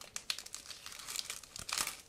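A plastic bag holding the assembly manuals for an ICM 1/72 scale model kit is opened, giving close, irregular crinkling and rustling bursts for about two seconds, loudest near the end, with no talking.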